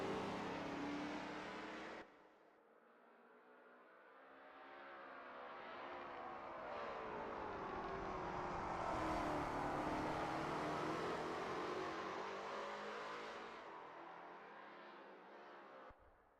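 A Lola T70 MkII Spyder race car at Road America rumbles and revs through an engine note that swells and fades over a long practice lap, loud and continuous with shifting pitch.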